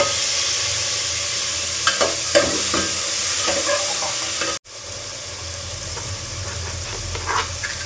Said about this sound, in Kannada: ನಿಮಿಷ ಫ್ರೈ ಮಾಡಿಬಿಟ್ಟು ಟೊಮೊಟೊ ಹಾಕ್ಬಿಡಿ